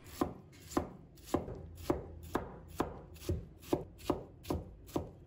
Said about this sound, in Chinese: 全部切好后，再把它切成丝。 然后切成小粒。